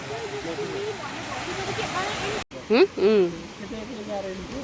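Steady rushing water flows in the background, a stream's constant hiss, with a person talking close by.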